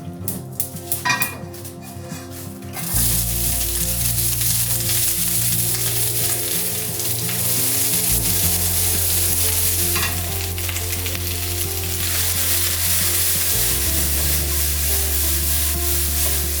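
Food sizzling and frying in stainless steel pans on a gas stove in a stone house kitchen in Italy, a steady loud hiss running throughout with occasional stirring and pan clatter.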